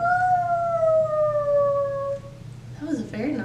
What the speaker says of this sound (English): That was a very nice howl.